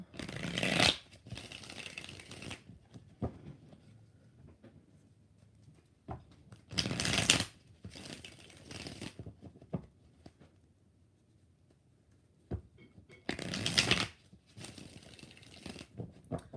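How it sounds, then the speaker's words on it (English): Three separate bursts of tarot card shuffling, each a quick riffling flutter lasting about a second, with quiet handling and soft taps in between. "So let's do 3 shuffles."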